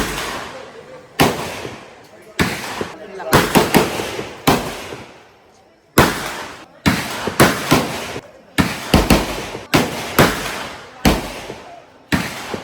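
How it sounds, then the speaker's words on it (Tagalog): A machine gun fires at the Cu Chi Tunnels shooting range in Vietnam in loud, sharp bursts of shots. The bursts repeat at irregular intervals, with short gaps between them and brief voices in the background. "Machine gun."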